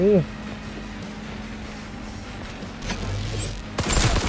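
Gunfire from a gun in the video game Cyberpunk 2077 arrives as loud bursts of rapid shots late in the clip, after a quiet stretch that opens with a brief voice.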